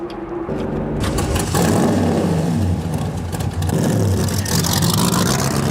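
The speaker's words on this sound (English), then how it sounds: "driving the Intimidator's car." A NASCAR stock car at Pocono Raceway, driven as the Intimidator's car, revs and accelerates hard from close by, its engine roar building and holding loud with gear-change surges throughout.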